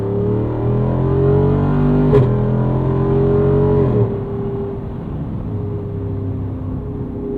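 A 2022 Jeep Wrangler Unlimited Rubicon 392 V8 accelerates hard in third gear in manual mode, a loud deep engine roar climbing in pitch, a brief shift blip, then settling into a lower steady drone heard from inside the cabin.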